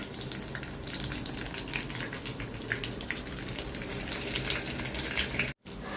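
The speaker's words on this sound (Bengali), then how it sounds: "এই তো বেগুনগুলা ভাজা শেষ, বেগুনগুলা সুন্দর মতো ভাজা হয়েছে।" Brinjal slices coated in gram flour batter frying in hot oil give a steady, dense crackling sizzle close by, continuous throughout with a brief cut near the end and no talk.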